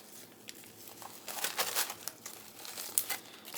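A plastic zip-top bag is pressed shut by hand, giving a close, quick run of crinkling and snapping clicks that builds over a few seconds with no voice.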